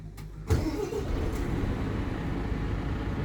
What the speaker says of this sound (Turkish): Marka aracı çalıştırdı.